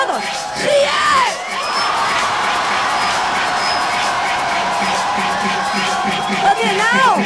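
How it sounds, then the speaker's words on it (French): Nightclub crowd screaming, whooping and cheering loudly in a sustained roar, with individual yells rising over the din. "Et moi je voudrais vous entendre crier."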